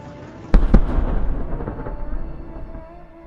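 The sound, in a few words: explosions as GMLRS missile strikes Russian 122mm MLRS on Kamaz chassis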